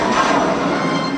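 A train rumbles in a Millennium Falcon VR video game, a loud, continuous broadband roar filling the whole short moment without any talk.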